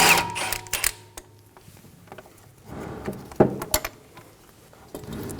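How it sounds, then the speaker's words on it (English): Removal of a 12mm bolt from the brake line bracket on a 2013-2017 Honda Accord, heard as irregular close metallic clicks, rattles and ratchet-like taps in two bursts separated by quieter handling noise. "Remove the 12mm bolt for the brake line bracket."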